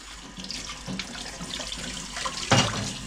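Tap water runs steadily into a sink for tortilla dough, a constant close splashing hiss with a brief louder gush near the end and no talking.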